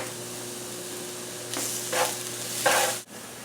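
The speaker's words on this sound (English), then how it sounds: "we'll just keep stirring until the onion is translucent" Chopped small onion stirred in a pan on the stove for risotto, giving a few short scraping, sizzling swishes with quiet hum between them.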